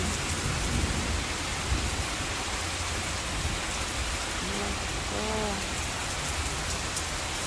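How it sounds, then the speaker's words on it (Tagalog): A heavy downpour hisses loudly and continuously on nearby surfaces while low thunder rumbles faintly underneath, and a person briefly speaks over the rain. "Malakas yung ulan."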